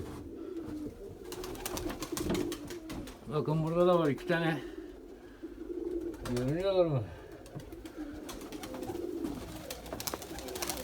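Tumbler pigeons coo in two rolling bursts close by, over background noise while someone speaks Turkish.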